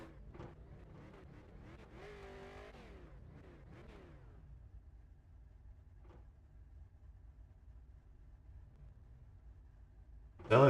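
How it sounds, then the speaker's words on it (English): A race car in the iRacing sim idles and revs, its engine tone rising and falling through shifts early on, then settling into a low idle before a sudden loud burst at the end. "Sounds like the car has just shifted into gear."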